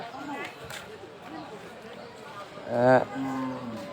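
A cow, a Burma-cross cattle breed, lets out a single short moo at a busy Eastern Housing cattle market in Bangladesh, heard briefly under steady crowd chatter and nearby talking.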